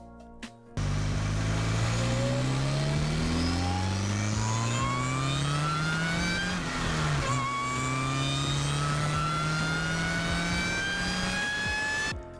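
Performance car engine accelerating hard through several gears, the pitch climbing steadily, dipping at a shift and climbing again, loud and sustained with no voices over it.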